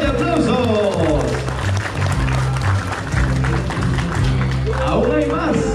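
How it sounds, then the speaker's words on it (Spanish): Guests at a quinceañera party applauding loudly, with dense clapping over thumping background music and people talking and calling out. "¡Aplausos, mi gente!"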